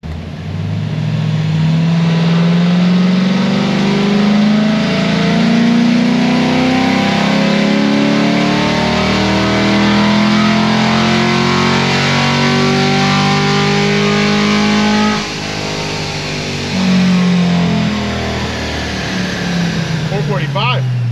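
Car engine held at wide-open throttle on a dynamometer during a pull after simple bolt-on upgrades, a loud, strained, steadily rising roar lasting about twenty seconds, with voices talking over it.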